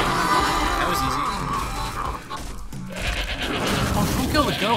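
A goat bleats in the video game Shadows of the Damned, wavering cries amid game effects and crashes, with a player talking over the top.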